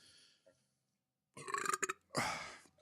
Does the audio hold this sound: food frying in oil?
no